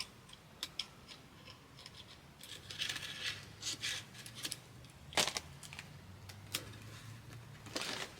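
A knife slicing the bottom layer off a DIY fingerboard stair set, giving scattered sharp cutting snicks and scrapes, close and fairly quiet, a few louder cuts among softer handling noise.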